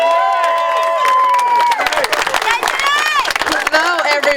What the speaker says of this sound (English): Let's give it a round of applause for Janae Roberts.